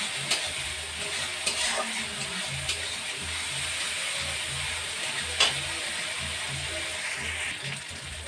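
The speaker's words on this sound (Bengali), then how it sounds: "মশলাটা কষা হচ্ছে। মশলাটা ভালো করে কষতে হবে।" Spice paste sizzling as it is sautéed in a pan, a soft steady frying hiss broken by occasional scraping clicks of stirring, close but fairly quiet.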